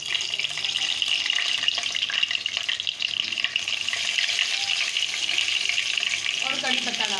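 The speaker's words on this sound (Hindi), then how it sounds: "तेल हमारा गरम हो चुका है। इसमें हम कलौंजी डाल देंगे" Nigella and cumin seeds sizzle in a pan of hot oil, giving a steady, close crackling hiss that lasts the whole clip.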